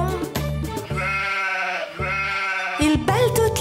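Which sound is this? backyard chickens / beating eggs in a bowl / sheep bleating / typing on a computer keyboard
sheep bleating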